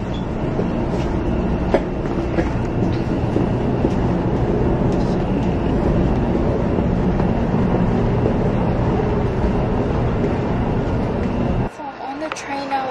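A Kodama bullet train in Japan gives a loud, steady rumble and rush of rail noise that holds for about eleven seconds, then drops off sharply to quieter surroundings at the end.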